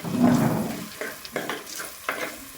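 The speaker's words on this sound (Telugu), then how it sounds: "అల్లం వెల్లుల్లి పేస్ట్ కూడా పచ్చి వాసన పోయేటట్టు మంచిగా వేయించుకోవాలి" Ginger garlic paste frying in a pan with curry leaves and mint, giving a loud hissing sizzle up front followed by three sharp bursts of sputtering as the pan is stirred.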